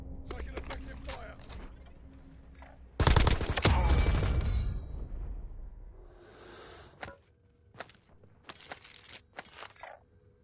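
Gunfire in the video game Black Ops 6: a loud, sharp burst of rapid automatic fire rings out, followed by scattered shorter shots and mechanical clicks amid quieter game sounds.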